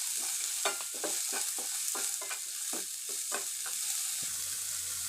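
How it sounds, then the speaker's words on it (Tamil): Steady sizzling of onions frying in a pan, with a broad hiss and scattered scraping clicks of stirring, close and continuous with no voices. "இப்போ ஒரு 1/2 கப்பு ஆனியன் ஆட் பண்ணிக்கலாம். இதை கொஞ்சம் வதக்கி விட்டுக்கலாம்"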